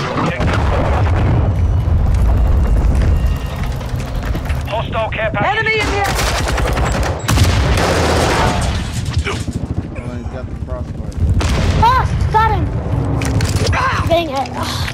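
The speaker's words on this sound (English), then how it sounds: "Hostile cruise missile." Explosions and heavy gunfire from a Modern Warfare 2 battle, with a cruise missile blast among loud booms and crackling automatic fire; voices shout over the chaos.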